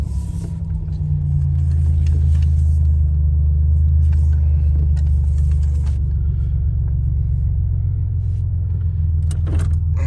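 An abandoned one-owner turbo Buick Grand National with 32K miles, heard from inside while driving: a loud, steady low engine and road rumble that holds without a break, with a few faint clicks near the end.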